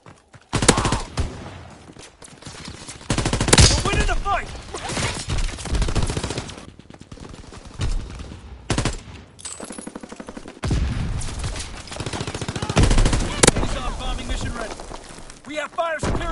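Machine gun fire in a PS4 video game, with dense bursts of automatic gunfire filling most of the stretch, loud and continuous with a few short gaps, and voices heard over the shooting.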